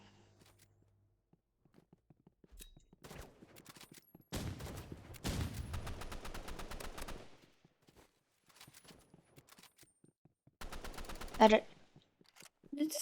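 Bursts of rapid gunfire in the Roblox game Rivals, with one long sustained volley in the middle and shorter clusters later, mixed with faint speech.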